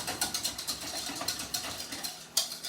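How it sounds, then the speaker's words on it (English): Egg yolks and granulated sugar being whisked in a bowl, a quick rhythmic series of scraping clicks as the whisk strikes the sides, fairly close with no talking. "we're going to just keep whisking that"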